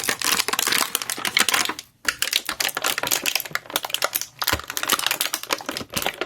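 Packing tape being pulled off the plastic packaging of a Mattel DC Kids action figure, a long run of close, loud crackling rips with a couple of brief pauses between pulls.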